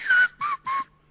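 Three short whistled notes of a whistled language, sharp and clear, the first longer and the next two briefly spaced, heard alone with a faint tail.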